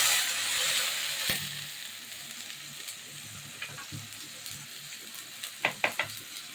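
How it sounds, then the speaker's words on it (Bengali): Water goes into a pan of fried onions and chillies, and the sizzling and frying fade into a quieter simmer, with a few sharp clinks of a utensil near the end. "হাফ লিটার পানি দিয়ে দিব।"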